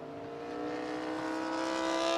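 A superbike leaving the pits at Mid-Ohio during qualifying, its engine rising in pitch as it accelerates, heard from a moderate distance with no one talking.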